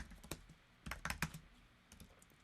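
Typing on an Apple Magic Keyboard at a desk: scattered soft key taps, a few isolated presses and then a quick burst of clicks, quiet and close with no voices.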